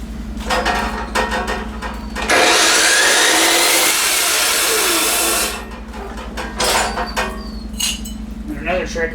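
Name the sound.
saw used as grinder on metal exhaust part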